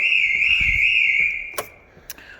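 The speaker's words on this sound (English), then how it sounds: "The interior has got an alarm that goes off." A steady, high electronic alarm tone sounds loudly and continuously inside an Alfa Romeo GT 3.2, then cuts off, followed by a couple of sharp clicks or knocks.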